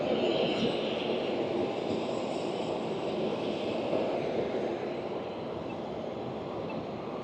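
Planes at the Las Vegas airport, where private jets load, give a continuous broad engine roar, fairly near and steady throughout with no talk.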